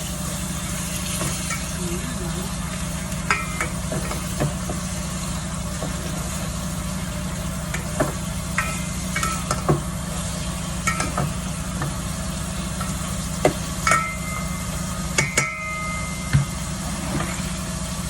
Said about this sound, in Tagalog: Kaya na pag yung ginger, lagay natin yung ating chicken.